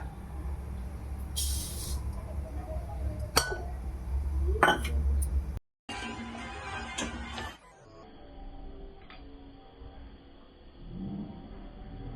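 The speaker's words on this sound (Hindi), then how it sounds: "तो सबसे पहले मैं अलसी डालूँगी" Flax seeds are tipped into a dry Indian kadhai for roasting, making a light, crisp pattering rush followed by scattered metallic clinks, then a quieter settling hiss after a short gap.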